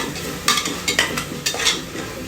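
Chicken with turmeric frying in a pan, a steady sizzle broken by several distinct stirring scrapes close to the pan, with no talking.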